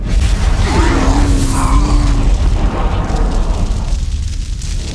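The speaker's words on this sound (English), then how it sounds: "On my command, fire the Titan cannon." Titan cannon firing in the Warhammer 40,000 Dawn of War Dark Crusade game: a loud, sustained rumbling blast roars for the full five seconds, with a rising whine in the first half and a gradually fading tail.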